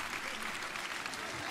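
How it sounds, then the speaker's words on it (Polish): Audience applause at a birthday concert, steady dense clapping throughout, moderately distant and fairly quiet, with no voices over it. "Wielkie brawa"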